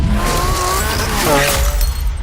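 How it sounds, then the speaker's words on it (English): Lamborghini Aventador with its V12 engine, a loud, close roar rising and shifting in pitch like hard acceleration, filling the short burst with strong harmonic growl. "Its engine is unmatched in its linear progression."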